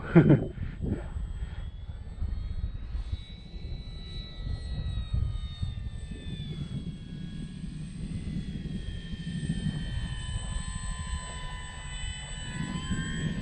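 A Bigfoot model airplane lands with flaps down in a crosswind, its engine a steady nearby drone with shifting whining tones as the throttle changes, a brief thump of wind at the start and no clear speech.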